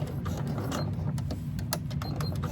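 A sewing machine runs a short back stitch on a handbag, its motor giving a steady mechanical whir with quick needle ticks, close up and without talk.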